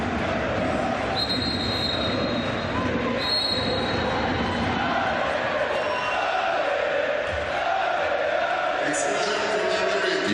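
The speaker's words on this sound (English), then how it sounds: "Huge support from the Hungarian crowd." Around 3,000 Hungarian fans cheer and roar steadily through a women's European Championship water polo match against Spain at Duna Arena, a broad, distant crowd din with occasional whistles and a commentator talking over it.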